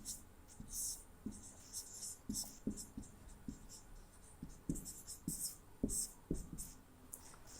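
A pencil writes on paper during a maths lesson on cuboid volume, giving soft scratchy strokes and taps in irregular bursts, up close, with faint speech in the background.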